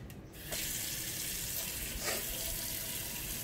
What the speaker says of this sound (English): We're going to fill this bowl up with some more warm water. I'm coming out of this faucet.